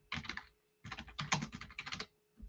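Someone types on a computer keyboard, entering Welsh translations into an online form: quick, close bursts of key clicks separated by short pauses.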